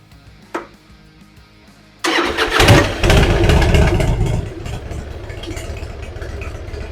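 Engine of a roughly 20-year-old Harley-Davidson motorcycle cranking loudly as it tries to start, with a brief click before a sustained churning roar that eases slightly but keeps going, no speech over it.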